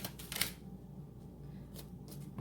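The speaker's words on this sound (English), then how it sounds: "Let's shuffle again." A few quick papery riffles of tarot cards being shuffled, soft and close, in short separate bursts with quiet gaps between.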